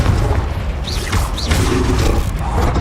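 Confringo blasting curse in Hogwarts Legacy, a dense rumbling blast with crackling debris and a couple of short whooshing spell sounds over continuous low booming game noise.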